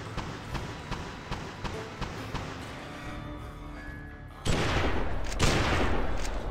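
Semi-automatic gunfire in the western action game GUN: a steady run of single sharp shots at roughly half-second intervals, then a louder burst of heavier blasts and rumble near the end.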